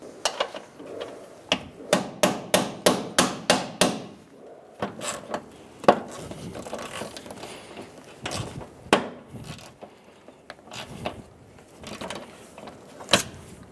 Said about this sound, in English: I'll hammer it on and try and twist this off